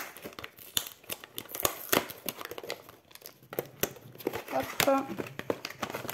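Plastic packaging of a craft kit being opened, with steady crinkling, tearing and rustling up close while someone talks over it.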